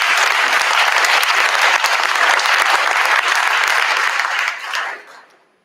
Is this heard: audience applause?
yes